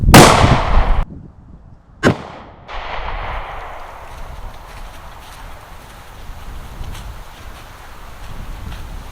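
A single sharp, loud 9mm pistol report from a Savage Stance firing a 115-grain full metal jacket round into ballistic gel, followed by a shorter crack and fading outdoor ambience.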